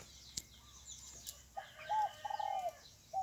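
Zebra doves calling, probably Thai barred doves kept for competition: a few short cooing phrases with soft trilled notes, moderately close, separated by brief pauses, with faint outdoor background noise and no talking.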